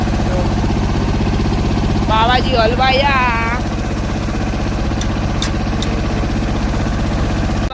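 A tractor stuck in a field, its engine running in a steady low drone throughout, with a brief burst of talk and a few faint high clicks over it.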